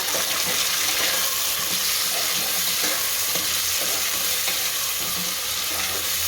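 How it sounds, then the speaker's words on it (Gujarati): Carrots, peas and onion stirred and frying in hot oil for a Gujarati spiced rice dish, a loud, dense, unbroken sizzle with a watery hiss and occasional stirring scrapes close up. "આ ગાજર, આ વટાણા અને હલાઈ નાખશું."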